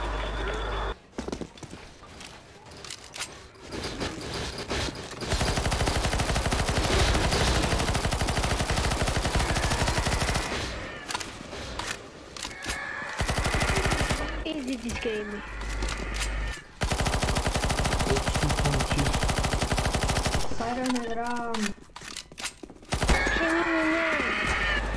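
Rapid automatic gunfire from Counter-Strike: Global Offensive in a zombie escape mod match, loud sustained bursts broken by short gaps, with electronic game sounds and players talking over it.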